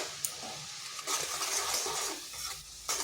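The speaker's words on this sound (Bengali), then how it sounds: "ভালোভাবে সবগুলো মিশিয়ে নিচ্ছি।" Potatoes with salt, sugar, cumin and coriander powder are stirred in a pan for oil-free vegetarian cooking, soft scraping and clinking of a spoon against metal at close range, with a few sharper taps, quiet overall.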